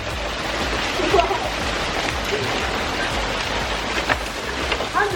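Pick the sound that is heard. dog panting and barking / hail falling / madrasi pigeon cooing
hail falling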